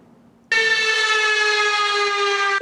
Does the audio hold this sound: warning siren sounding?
yes